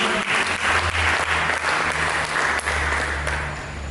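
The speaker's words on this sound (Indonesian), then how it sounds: "Mari kita berikan tepuk tangan." A church congregation claps together during a sermon, a dense, steady round of applause that fills the room and tapers slightly toward the end.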